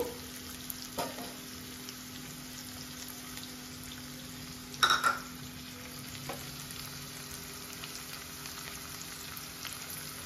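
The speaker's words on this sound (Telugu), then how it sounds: "ఇవి ఆనియన్స్ వేసిన తర్వాత 1 నిమిషం ఆనియన్స్ ఫ్రై అయిన తర్వాత" Chopped onions and garlic fry quietly in a pan, a soft even sizzle throughout with one brief clatter of a utensil near the middle and a couple of faint knocks.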